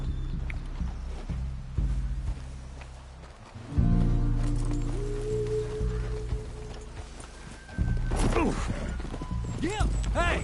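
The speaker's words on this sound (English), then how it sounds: "Get a hold of that horse, Mr. Morgan." Horse hooves clip-clop in the video game Red Dead Redemption 2, a steady run of soft hoofbeats under spoken dialogue and a music score, with a whinny or shouts near the end.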